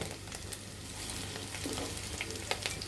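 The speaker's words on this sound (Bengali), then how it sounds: "কুপ্তাগুলো কিছুক্ষণ উল্টিয়ে পাল্টিয়ে ভেজে নিব" Fish kofta balls sizzle steadily in hot oil, a continuous crackling fry with faint scattered pops and light stirring, no voices over it.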